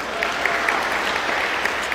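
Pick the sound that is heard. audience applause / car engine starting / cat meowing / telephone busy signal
audience applause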